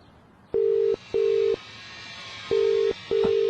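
Four loud, steady electronic telephone tones in a row, each lasting about half a second, sounding over faint line hiss while a number is called back.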